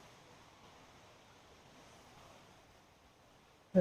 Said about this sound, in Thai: นั่งฟังเสียงน้ำตกให้สบายใจกันครับ